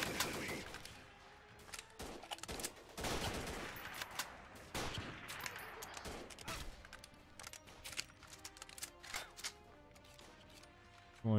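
Gunfire in the video game Freeman: Guerrilla Warfare, with dense crackling shots and bursts from several weapons that run almost without a break, loud and busy, along with faint bird calls in the game's ambience.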